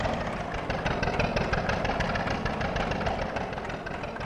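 A tractor engine idling on a farm, a steady mid-to-low rumbling drone with even vibration throughout, close and fairly loud with no talking.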